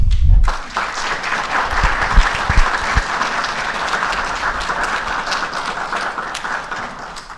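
An audience at a book launch for the San José de Duitama minor seminary bursts into sustained, dense applause that holds steady for several seconds at fairly close range, with a few low thumps at the start.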